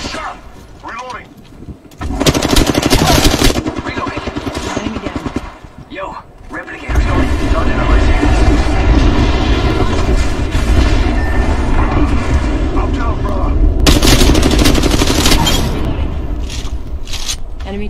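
Rapid gunfire bursts from the video game Apex Legends crackle loudly and almost continuously across most of the stretch, with game voice lines and speech mixed in and only a brief lull early on.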